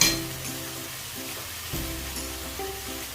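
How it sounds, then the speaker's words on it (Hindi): Jackfruit and mixed vegetables frying in a pan, a steady close sizzle with occasional stirring scrapes and a brief louder burst near the start. "देखिए बहुत ही अच्छी तरीके से ये सारे सब्जी भून रहे हैं"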